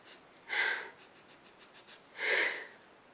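Two short, close sniffs at a makeup product, a shade from the MAC Heirloom Mix holiday collection, each a soft breathy burst separated by a quiet pause.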